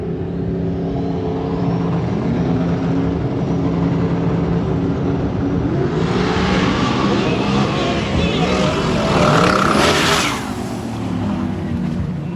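Turbocharged drag race cars spool up at the line and launch, a loud, rough engine drone that surges into a bright, rising roar before easing off, with an announcer talking over it.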